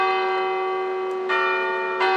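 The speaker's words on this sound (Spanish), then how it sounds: "Mira, la campana no fue planeada" A church bell rings out, a sustained resonant tone hanging in the air with fresh strikes adding brightness near the end, fairly distant.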